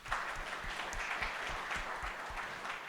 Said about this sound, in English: So another huge round of applause.